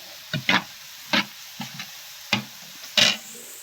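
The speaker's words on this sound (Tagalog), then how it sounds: "Ikot natin" Vegetables being stirred in a frying pan after oyster sauce goes in, with separate bursts of scraping and sizzle at irregular intervals, about six strokes, close and fairly loud over a quiet background.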